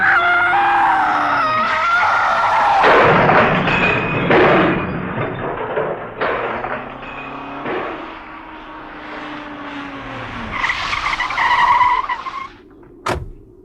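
A car skids on a narrow road in an old radio drama, with engine roar, screeching tyres and shouts building before it goes over the edge, ending in a sharp crash.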